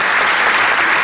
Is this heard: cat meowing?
no